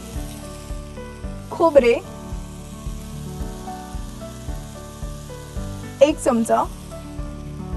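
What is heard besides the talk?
vegetables with coconut and red chillies sautéing in a pan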